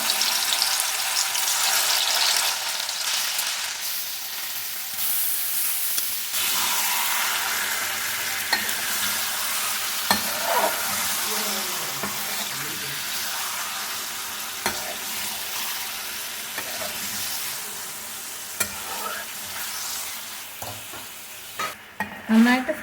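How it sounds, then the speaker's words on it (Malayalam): Chicken pieces for Mughlai chicken are lightly fried in oil left from frying onions and stirred throughout. The loud, steady sizzle carries scraping stirring noises and a few clatters near the end. "ഉള്ളി വറുത്ത ഓയിൽ തന്നെ നമുക്ക് ചിക്കൻ ഒന്ന് ചെറുതായിട്ട് ഫ്രൈ ചെയ്തെടുക്കാം."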